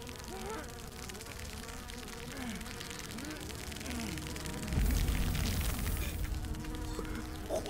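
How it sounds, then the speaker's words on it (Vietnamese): A grasshopper in a Chinese fantasy costume drama gives off a steady, wavering insect buzz with swooping tones, set against a dense effects and music bed that swells louder midway. "Châu chấu."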